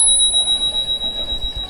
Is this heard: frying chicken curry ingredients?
no